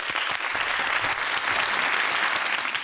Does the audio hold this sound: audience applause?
yes